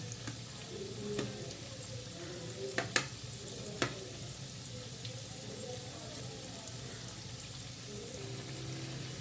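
Food fries steadily in a pan with a constant low sizzle, and a few faint clinks of stirring rise above it, with no talking.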